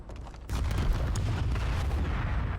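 Tank and artillery fire in a war video game: a sharp distant report, then a deep rumbling boom that rolls on steadily, heavy in the low end, with no talking.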